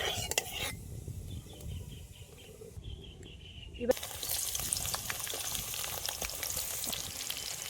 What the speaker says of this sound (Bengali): কেটে রাখা পেঁয়াজ কুচিগুলি গরম তেলের উপরে দিলাম দিয়ে ভালো করে পেঁয়াজটাকে ভেজে নেব